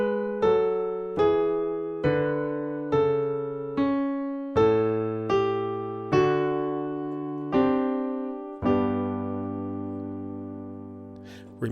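Solo piano plays a gospel song at a slow tempo, with about nine separate sustained chords struck one after another and the last one left ringing out, clear and alone.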